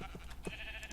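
A sheep bleats faintly in a game world, a short, thin, wavering call heard at a distance against a quiet background.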